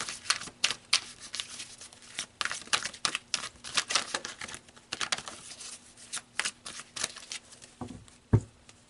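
Tarot cards are shuffled and pulled by hand, a close, quiet run of rapid papery riffles and flicks in an uneven patter, ending with a couple of soft taps.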